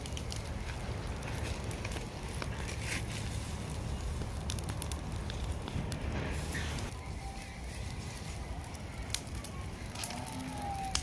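Green chickpea hurda roasting over an open outdoor fire gives a steady, dense crackle and hiss throughout, fairly close, with a few sharper pops near the end.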